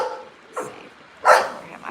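A puppy barks twice close by indoors, a softer yip followed by a louder, sharper bark about three quarters of a second later, with quiet gaps around them and no talking.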